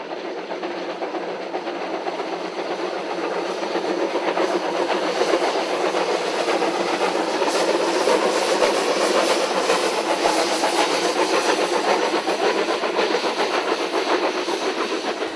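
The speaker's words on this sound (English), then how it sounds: "Mainline Steam's AB 663 and Fielding Steam Rail's WAB 794 climbing above Cloudy Bay south of Blenheim." Two steam locomotives, AB 663 and WAB 794, climbing a grade above Cloudy Bay south of Blenheim, heard as a steady, loud, continuous rumble and chuffing roar with faint rhythmic clatter, building slightly and holding throughout.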